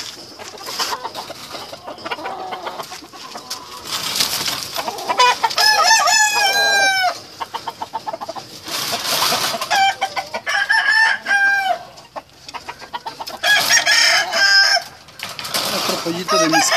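Kelso gamefowl roosters crow repeatedly, loud and close, with clucking hens between the calls in a busy farmyard in Morelos, Mexico.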